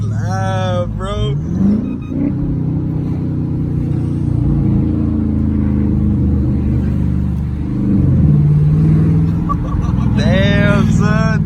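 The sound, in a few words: 5.7 Hemi engine with straight pipe exhaust revving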